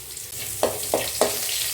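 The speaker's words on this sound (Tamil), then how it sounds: "எண்ணெய் காஞ்சன்னு கொஞ்சம் கடுகு போட்டுக்கிறோங்க ஜீரகம் போட்டுக்கிறேன் கொஞ்சம் பூண்டு போட்டுக்கிறேன்" Mustard seeds, cumin and garlic sizzle in hot oil as the base for a mutton curry. The frying hiss is steady and close, broken by three evenly spaced sharp crackles or stirring strokes.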